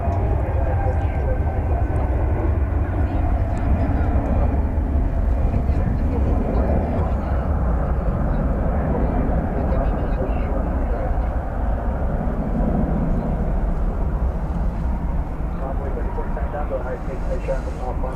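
A Finnair airliner moves at DFW Airport, its loud, steady engine roar filling the whole stretch without letup, with people talking faintly underneath.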